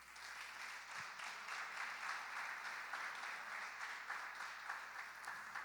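A church congregation applauds at a Portuguese-language service, a steady, moderately distant wash of many hands clapping without interruption.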